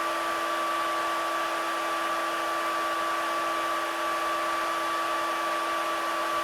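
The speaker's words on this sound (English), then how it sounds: "we're just gonna do the 2 vacuums hooked up to a 20-foot hose just to get a baseline" Two vacuums hooked up to a 20-foot hose run for a dust collection test, giving a loud, steady whine with a constant tone and no break, close up and with no talking.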